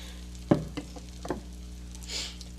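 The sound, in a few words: butter melting and sizzling in a pan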